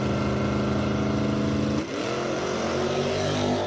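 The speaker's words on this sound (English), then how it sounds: "He's been known to launch that pretty darn hard." A 1979 Chevy drag car at a dragstrip during ET finals roars hard at the start, its engine note dipping briefly before climbing again as it launches off the line, loud and sustained.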